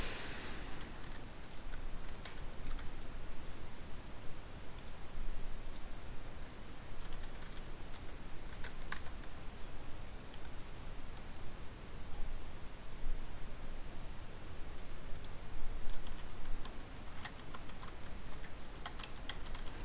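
Computer mouse clicks at a desk, a scattering of light, faint ticks spread irregularly over a steady background hiss, with no voices.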